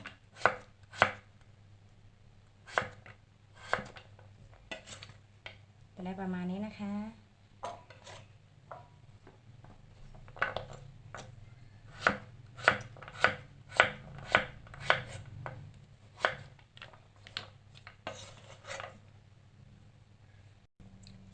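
Knife chops sharply on a cutting board, cutting pumpkin into small pieces in bursts of quick, evenly spaced strikes, with a short stretch of someone speaking between them.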